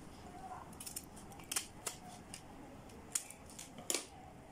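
Scissors snipping paper while making a DIY paper rose, several short quiet cuts spaced irregularly in a hushed room, with faint crisp clicks.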